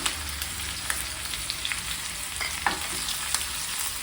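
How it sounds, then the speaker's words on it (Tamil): Onion frying in hot oil for fish curry gives a steady, fairly loud sizzle with scattered crackles and pops throughout. "இப்போது நான் வெங்காயத்தை ஆட் பண்ணிக்கிறேன்"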